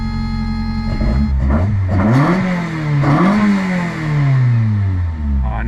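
The engine of a Toyota Corolla FX16 revs repeatedly, its harmonic pitch sweeping up and down in several loud, close blips before it settles into a long falling tone as it returns toward idle.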